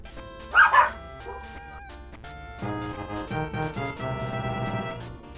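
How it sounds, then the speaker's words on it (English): Dogs bark indoors, a couple of loud sharp barks up close, then background music continues with no voices. "Dog's barking."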